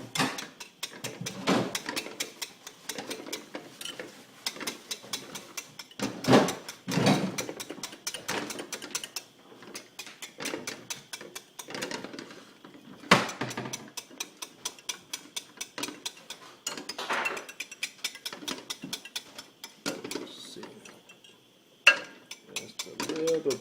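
A whisk clatters rhythmically against a bowl of mousseline sauce, fast repeated metallic ticks in bursts with brief pauses, close and moderately loud.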